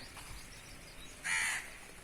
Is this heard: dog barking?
no